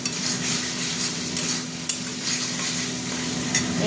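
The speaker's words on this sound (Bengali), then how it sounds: "এইবার মশলাটা কষা হবে, হতে থাক।" Spice masala frying in oil in a kadai, stirred steadily, with a continuous close sizzle and scraping strokes of the spoon against the pan and a brief sharp clink near the middle.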